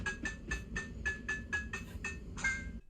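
Electronic chirps from a LEGO Smart Brick on a TIE Fighter tile during a repair sequence: a steady run of about nine short tonal beeps, then a slightly longer completion tone, close and fairly quiet over low background hum.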